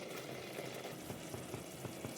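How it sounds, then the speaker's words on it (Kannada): A tomato mixture for tomato rice bubbles in a pot on the stove, giving a soft, steady simmer with faint pops and bursts close by and no talking. "1 ನಿಮಿಷ ಮತ್ತೆ ಕುದಿಸೋಣ."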